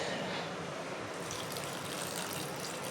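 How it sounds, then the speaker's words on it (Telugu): Water pours steadily into a bowl of freshly cut ingredients in a home kitchen, a continuous close splashing gush with no pauses. "ఇప్పుడు ఇందులోకి వాటర్ అయితే యాడ్ చేద్దాం"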